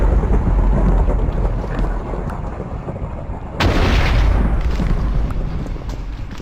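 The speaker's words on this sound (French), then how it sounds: "il pleut déjà" Steady rain with heavy rumbling thunder in Minecraft, a loud continuous wash that swells sharply midway with a fresh burst of storm noise, no voices.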